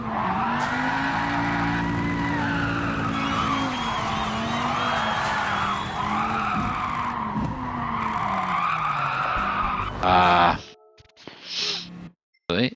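Car engine revving and upshifting in the racing video game Gran Turismo 7, with a loud sustained engine whine rising and dropping through gear changes, under someone talking, then cutting off abruptly.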